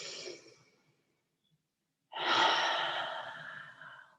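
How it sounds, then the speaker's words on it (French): A deep, slow breath in a calm yoga session: a soft breathy inhale fades out, then after a pause a long, strong exhale through the mouth rushes out close to the ear. "On peut expirer par la bouche ici"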